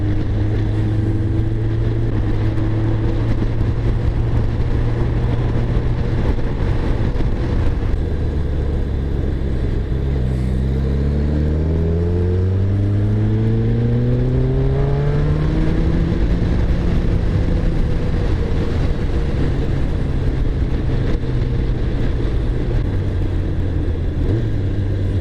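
Road traffic rumbles past inside a car stuck in a backup, with a steady low engine drone and rising, sliding engine tones as vehicles accelerate nearby; no talking.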